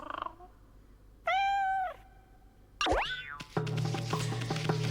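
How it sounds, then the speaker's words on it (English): Kabegami, the cat god in the video game Okami, gives a sustained tonal meow, followed by a swooping boing-like cry and a buzzing chime, all as clear, loud game sound effects. "this is Kabegami, he's the cat"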